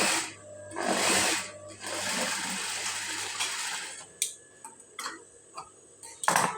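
A sewing machine stitches a blouse in a rapid mechanical whir lasting a few seconds. Scattered sharp clicks and ticks follow as the fabric is handled.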